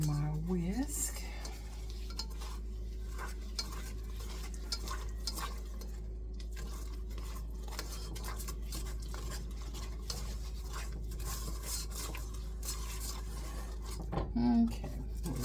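A whisk stirs apple pie filling in a pot, making a steady, close scraping and swishing with light metallic clinks that continue throughout.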